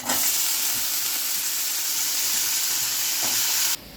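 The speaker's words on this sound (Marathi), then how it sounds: "हे मस्त बीन्स आपल्या तेलामध्ये परतून झाले आहे मसाल्यासोबत" Green beans fry in hot oil with spices, a loud, close, continuous sizzle with faint stirring scrapes that cuts off abruptly just before the end.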